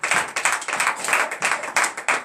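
A congregation clapping in acclamation at a morning prayer service, rapid rhythmic clapping in irregular bursts, close and fairly loud, without voices.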